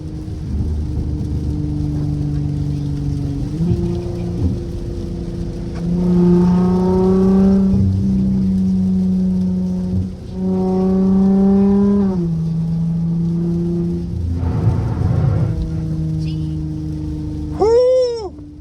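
A car with a straight-pipe exhaust, a Dodge SXT, sliding on rain-soaked road as it hydroplanes; loud engine drone rises and falls in surges from inside the cabin, with a short high squeal near the end.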